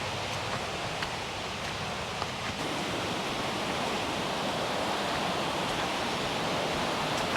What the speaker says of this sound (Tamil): கிட்ட வர வர பார்த்திங்கன்னா நல்லா அந்த தண்ணி போகிற சவுண்டு கேட்டுட்ருக்கு